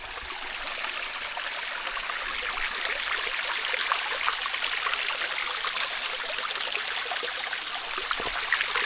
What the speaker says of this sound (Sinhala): අපිට හම්බුණා මේ කුඩා දිය පහරක්.